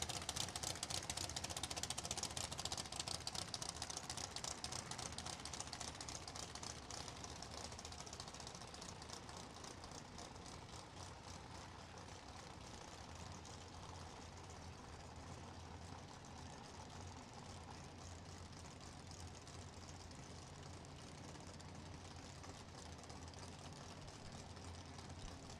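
A turbocharged Toyota six-cylinder race car engine at a drag strip test-and-tune event runs as a continuous, rapid, rattling mechanical drone, heard faint and distant throughout with no talk.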